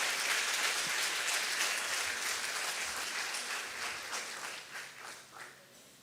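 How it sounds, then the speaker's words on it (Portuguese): A church congregation claps together in a long, dense round of applause, loud and sustained at first, then thinning into scattered claps as it fades. "Você pode dar um forte aplauso ao Senhor?"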